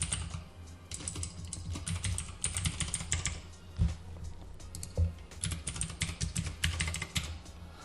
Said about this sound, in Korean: 자, 아이디 입력을 해보겠습니다